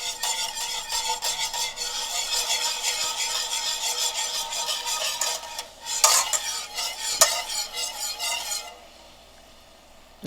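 Chocolate fondue mixture in a pot starts to bubble and roll, with a dense, steady fizzing simmer. Brief clinks and stirring scrapes cut in near the end, then the sound drops away.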